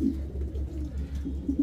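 Pakistani Teddy Damascene racer pigeons coo softly and repeatedly in low, rounded pulses, close by and fairly quiet, with no voices over them.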